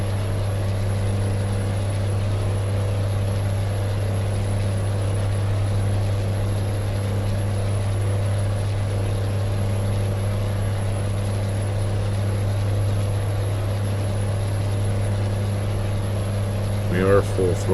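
Heavy truck engine droning at full throttle in American Truck Simulator while hauling a very heavy load on a British Columbia highway, a steady low hum that continues unbroken throughout.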